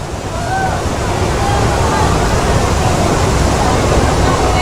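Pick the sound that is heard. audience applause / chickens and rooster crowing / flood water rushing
flood water rushing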